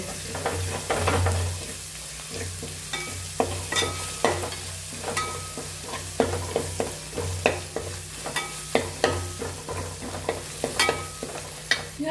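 A ginger, garlic and shallot paste fries with curry leaves for a Kerala chicken dish, a steady moderate sizzle punctuated by frequent spatula scrapes and taps against the pan, with no one speaking.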